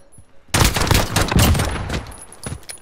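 Uzi submachine gun bursts in Modern Warfare survival mode, a dense stretch of rapid close gunfire starting after a quiet half second and running nearly continuously to the end.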